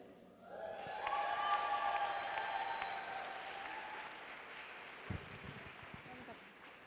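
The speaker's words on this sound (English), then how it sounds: "Guys, really just applaud for yourself." Audience applause at a London fashion show swells after a brief quiet start, holding steady as a dense wash of clapping through the room, with a faint voice audible beneath it.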